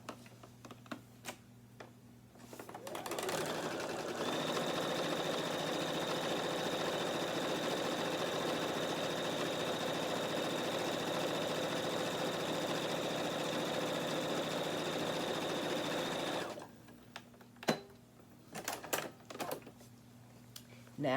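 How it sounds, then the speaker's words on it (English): A sewing machine stitches the side seam of a tote bag in one steady, continuous whir lasting about fourteen seconds, with quieter handling clicks and rustles before it starts and after it stops. "Now we're going to come to the other side and we're going to sew the other side."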